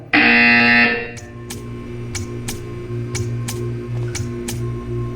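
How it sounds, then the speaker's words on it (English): A loud, harsh electronic buzzer in the video game Portal 2 blares for about a second, then cuts off, leaving a droning hum with scattered soft clicks. "When you hear the buzzer, stare at the art."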